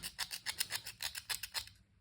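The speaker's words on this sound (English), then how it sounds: "with a sharp blade or a pair of scissors, you need to scrape away until you see" Sharp blade scraping the enamel coating off copper wire for a DC electric motor, about a dozen quick rhythmic rasping strokes, close and crisp, then stopping.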